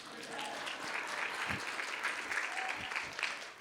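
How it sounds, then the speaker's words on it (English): An audience at a talk by a dentist and business coach in Cancun breaks into steady applause, a dense continuous patter of many hands that holds at an even level from start to end with no voices over it. "Please give me a round of applause."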